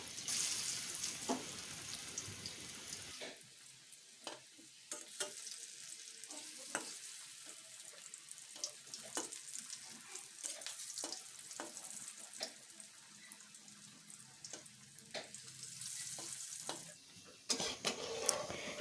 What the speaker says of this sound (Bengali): তেলটা বেশ গরম হয়ে গেছে এখন এই ধোকাগুলোকে একটা একটা করে আমি ছেড়ে দিচ্ছি একটু স্যালো ফ্রাই করব